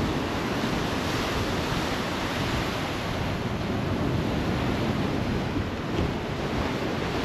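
Loud, continuous roar of ocean surf against a seawall in Sokcho, South Korea, with heavy wind buffeting the microphone, steady throughout and no voices.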